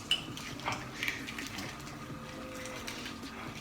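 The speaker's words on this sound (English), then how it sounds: "I'm gonna crack the egg inside this bowl and mix it up" An egg cracked into a bowl and whisked for ramen, a few close light taps and clinks of utensil on the bowl, then quieter scraping, fairly faint with no talk.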